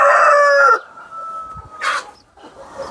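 A tall fighter-cock rooster on a Kajiado chicken farm lets out one short, loud crow up close, followed by quiet farmyard background.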